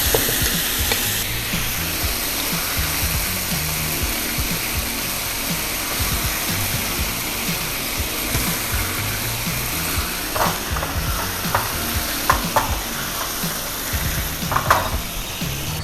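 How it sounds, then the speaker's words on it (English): Teriyaki sauce reduces in a pan after scallops are removed, bubbling and sizzling loudly and continuously with a low rumble beneath and some scraping clatter near the end, up close and with no speech. "Put sauce and cook down."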